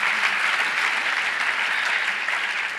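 A conference audience applauds at a mindfulness discussion, dense continuous clapping filling the room evenly at a steady loud level throughout.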